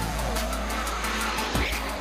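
During a street race, a car accelerates hard with tires squealing, a loud, fairly close engine roar and a brief rising screech of rubber over about two seconds.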